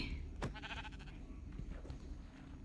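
A sheep bleats in the Minecraft video game, a short wavering cry followed by a second faint bleat under quiet background noise.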